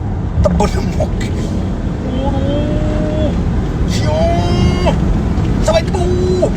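A diesel car engine is held at high revs to clear its particulate filter, making a loud, steady drone from start to finish while voices talk over it.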